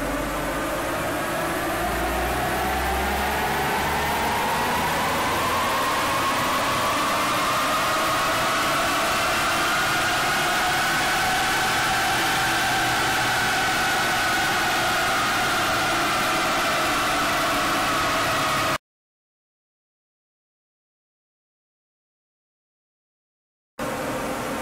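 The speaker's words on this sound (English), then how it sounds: "This is the dyno before run." Nissan Navara 2.5 DDTi (D23) diesel pickup running on a wheel dyno, a steady loud engine drone with a rising then falling whine as it sweeps through the run, ending in an abrupt cut to silence.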